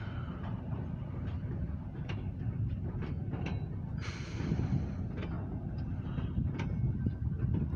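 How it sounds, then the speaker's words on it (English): Short grain hopper freight train with empty cars, heard as a low steady rumble with faint intermittent clanks and creaks from the cars, distant and fairly quiet, with no voices. "Got a short grain hopper train to hook up with these tankers there."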